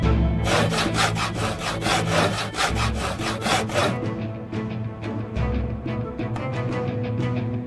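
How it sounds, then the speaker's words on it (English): Wood being sawn in the video game Project Zomboid, a fast regular run of close rasping strokes that eases into slower, lighter strokes toward the end. "Start sawing."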